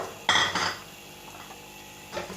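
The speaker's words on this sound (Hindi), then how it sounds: "अब इस मौके के ऊपर यखनी का एक बाउल डाल देते हैं इसमें" A bowl of yakhni stock poured into a pot of mutton cooked with yogurt for pulao, heard as a few close clattering bursts of utensil and pot contact followed by quieter cooking sounds.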